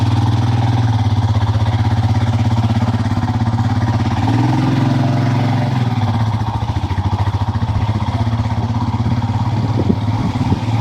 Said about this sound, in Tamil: வண்டி வந்து கொஞ்சம் தூரத்துக்கு போகும் அதுக்கு மேலே வந்து வண்டி நிறுத்திட்டு நடந்து போகணும்